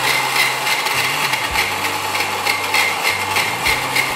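An electric vegetable chopper mixie runs steadily while slicing onions, a continuous loud motor whir with a low droning hum that shifts in pitch now and then.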